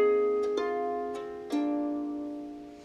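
Plucked notes of an arpeggio on a Harpsicle small harp, a few clear onsets ringing and sustaining close up, decaying gently, played alone.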